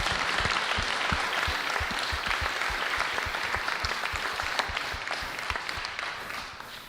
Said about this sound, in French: je vous serais gré de l'applaudir un petit peu et de lui faire une place sur scène.